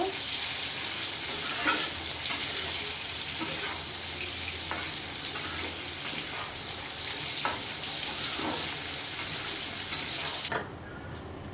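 Bitter gourd slices frying in hot oil give a steady, dense sizzle with faint stirring clicks, holding close and even for about ten seconds before dropping off abruptly near the end.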